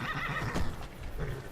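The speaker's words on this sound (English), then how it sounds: "Hello, horse." A horse in Skyrim gives a loud, close whinny with snorting breaths, hooves shuffling beneath it, heard alone without talk.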